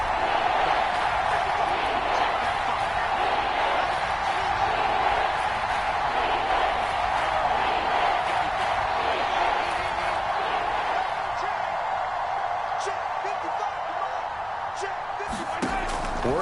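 Crowd noise at a football stadium during an early third-and-ten, a constant roaring wash of thousands of fans that swells and holds, with occasional sharp pops near the end.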